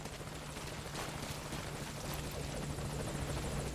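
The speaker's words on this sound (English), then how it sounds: "basically you're just supposed to wait for the chopper to get here" A helicopter in Metal Gear Solid: Ground Zeroes approaches as a constant rotor chop over a low, steady hum, quiet and distant, growing a little louder over a few seconds with no talking.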